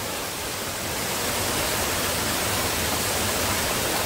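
Water pours steadily like a small waterfall at a natural swimming pool, a dense continuous rushing hiss that stays loud and close throughout without any voices.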